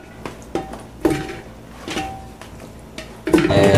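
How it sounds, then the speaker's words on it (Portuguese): Pieces of meat and cow's foot are dropped into a pressure cooker, giving a series of close clunks and knocks against metal, with a louder burst of clattering at the end. "Colocar na panela de pressão."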